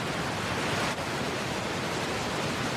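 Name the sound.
ocean surf waves breaking at Bells Beach surf contest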